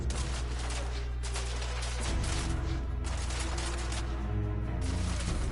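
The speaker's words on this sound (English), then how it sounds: "I think they all have fucking machine guns" Dense, continuous machine gun fire in The Order: 1886 video game, rapid overlapping bursts with a heavy low rumble throughout, loud and without talk.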